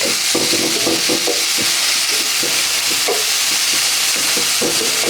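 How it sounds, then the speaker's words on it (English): Vegetables for a crustless quiche sautéing in a hot pan, a loud dense hiss of sizzling with repeated spatula scrapes and stirring knocks, close up and continuous with no voices. "That's why I want to saute them so I get all the moisture out so it doesn't liquefy our quiche"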